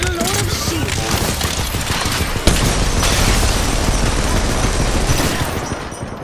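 Enemy squads firing in Apex Legends, a dense, continuous barrage of rapid gunshots and bursts that stays loud throughout, with a sharp louder burst midway and faint voice underneath.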